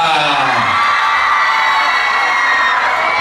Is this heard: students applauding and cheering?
yes